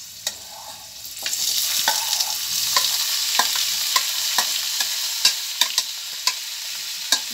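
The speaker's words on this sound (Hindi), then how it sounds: "अब हम इसमें प्याज और टमाटर बारीक कटा हुआ डालेंगे।" Finely chopped onion and tomato frying in a pan with garlic and chili for wheat leaf soup, a steady hiss of sizzling broken by sharp clicks and scrapes of stirring, close and alone.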